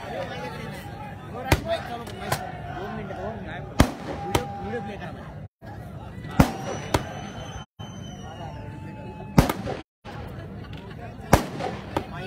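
Firecrackers crack in sharp, loud bangs at irregular intervals during an outdoor political rally in Maharashtra, over a background of crowd noise and a voice on a loudspeaker.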